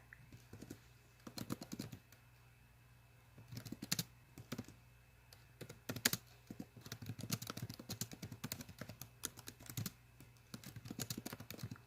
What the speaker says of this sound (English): I can't see what I'm typing.